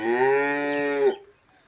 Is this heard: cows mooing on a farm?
yes